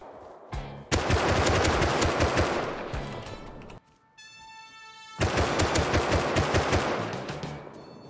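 Rapid automatic gunfire rattles in long sustained bursts, broken by a brief lull with a tonal electronic hum before the shooting resumes loudly.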